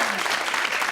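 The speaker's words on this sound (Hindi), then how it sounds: "अब्बा के लिए एक सेकंड तालियां" Studio audience applause on a television talk show, a dense, steady wash of clapping that is loud and close throughout the short moment.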